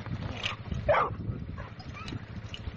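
An American Pit Bull Terrier brood female in a kennel yard gives a few short yips and whimpering barks over steady low outdoor rumble.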